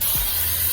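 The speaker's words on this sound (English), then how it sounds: "I'm just going to spray the calipers, kind of clean them up kind of good" A steady, close hiss of cleaner sprayed onto the brake calipers of an F30 BMW with 340mm Brembo front rotors, one continuous burst.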